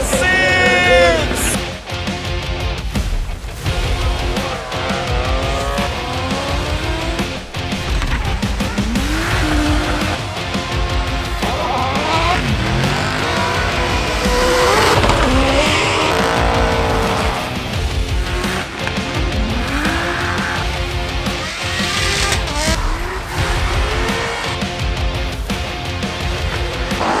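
Time attack race cars at WTAC 2023 in Sydney, with loud engines revving and shifting, tyres squealing and skidding, and rising and falling pass-bys, while a commentator and crowd voices come through under the noise.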